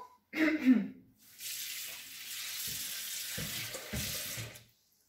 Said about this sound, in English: I'm going to cover everything with some water